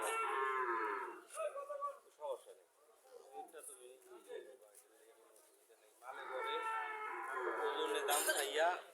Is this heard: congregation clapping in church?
no